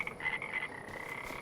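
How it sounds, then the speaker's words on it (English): Frogs croak steadily from a small creek-fed pond in Farming Simulator 25, forming a continuous chorus of overlapping calls that sits in the background without pause. "We got plenty of frogs in our little pond here."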